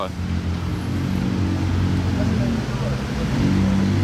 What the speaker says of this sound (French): j'entends une McLaren derrière moi arriver